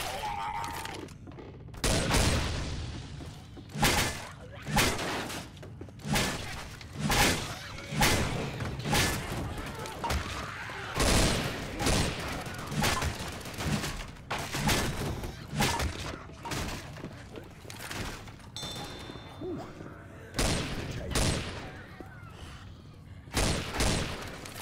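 Rapid rifle fire in Left 4 Dead 2, loud repeated bursts of shots in an uneven rhythm throughout, with in-game action noise between volleys.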